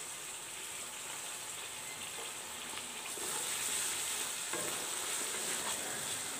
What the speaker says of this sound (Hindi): और इनको भी 1 से 2 मिनट भून लेंगे हम।